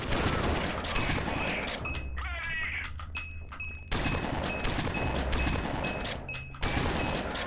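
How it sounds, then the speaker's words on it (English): Gunfire in the shooter video game Dead Effect 2, a dense burst of rapid shots with game sound effects, loud and close, broken by brief pauses. "Did you not hear me shooting you earlier?"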